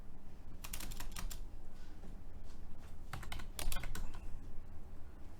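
Quick bursts of keystrokes on a computer keyboard as a password is entered, two short clusters of crisp clicks separated by a quiet gap, close and alone.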